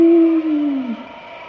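A single voice imitates a dog's howl, one long mournful tone that slowly slides downward and fades.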